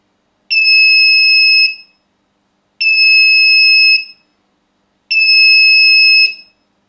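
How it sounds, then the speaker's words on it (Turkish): Three long, loud alarm beeps from a digital timer control circuit, each lasting about a second, separated by short silences in an even rhythm. "Son 5 saniyede alarm ötmeye başlayacak."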